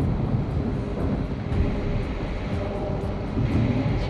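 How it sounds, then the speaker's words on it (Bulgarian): A storm at sea sounds as a continuous heavy rumble with rushing rain-like noise and a few sharper cracks, loud and steady throughout with no speech. "Мога да видя бурята."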